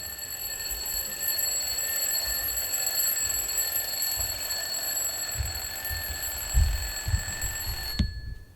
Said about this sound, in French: Le réveil, est-ce qu'il marche?